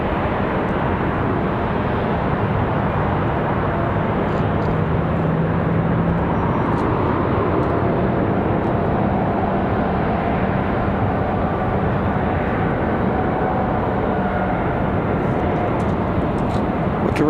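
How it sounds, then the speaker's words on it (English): A Hawker Beechcraft 400 XL business jet taking off at Raleigh-Durham International, a steady, even engine roar held at a distance for the whole stretch without fading. "Another one coming up from Naples. Wheels up. Hawker Beechcraft 400 XL."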